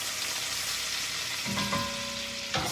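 Oil in a hot pan sizzles steadily at close range in a home kitchen before shrimp and linguine are cooked, a continuous bright hiss with a brief clink partway through and no talk.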